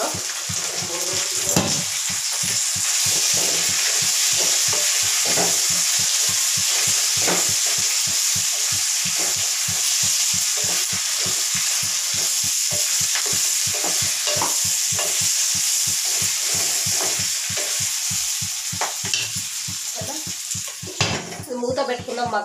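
Bottle gourd pieces frying in a pan with turmeric and salt: a constant loud sizzle under a long rapid series of scraping, clattering stir strokes, close up and without speech.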